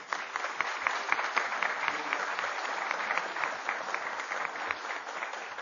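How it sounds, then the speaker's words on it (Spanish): An audience at a candidates' panel applauds Aurelio García Elorrio, a Córdoba provincial deputy candidate for Encuentro Vecinal Córdoba, with a steady, dense round of clapping, quick regular hand strikes sustained at moderate loudness throughout. "Pido el aplauso para él"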